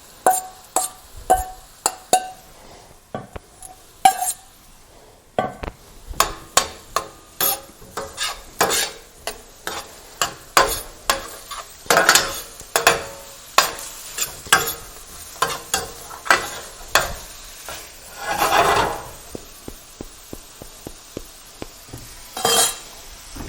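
Clams in their shells tossed into a hot pan with oregano, producing a long run of hard clacks and clinks against the metal over a light sizzle, close and loud with no speech.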